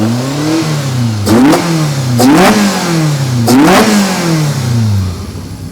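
A Volkswagen Golf Mk1 GTI engine with individual throttle bodies, just over 200 horsepower, revs hard three times, pitch climbing sharply and bouncing off an 8800 rpm limiter before dropping back, loud and close.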